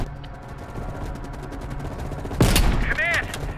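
A Call of Duty: Black Ops Cold War battle with rapid, muffled gunfire and a louder sniper rifle crack near the end, followed by a brief whining tail, under a steady background of combat.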